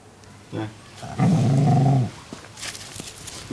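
A yard dog growls once low and sustained for about a second, preceded by a brief short vocal sound, with quiet background afterward.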